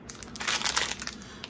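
A plastic bag holding chewy cherry candies crinkles and crackles in quick bursts close to the microphone, busiest in the middle and thinning into a few scattered rustles by the end.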